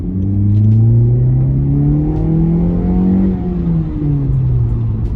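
A Honda CR-Z hybrid with a J2 Engineering catback exhaust revs loudly up and down in rising and falling sweeps, a deep close rumble; distinct exhaust pops are not clearly audible.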